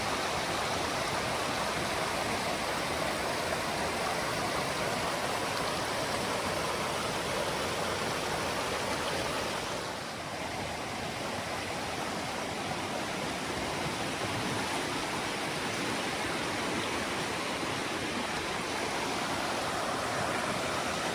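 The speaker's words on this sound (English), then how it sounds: "So just crossed over the Ochre Creek, which is somewhere down there." Ochre Creek, a mountain stream along the Rockwall Trail, rushes steadily and loudly for the whole stretch, a dense unbroken wash of flowing water with no voices.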